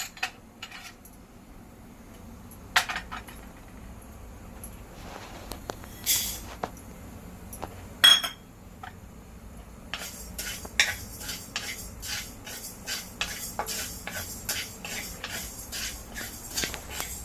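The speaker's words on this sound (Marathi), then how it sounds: "पहिल्यांदा आपण धणे भाजून घेऊया" Coriander seeds dry roasting in a pan for homemade South Indian sambar masala, heard as soft scraping and clinking utensil stirs, with a steady run of quick rattling strokes near the end.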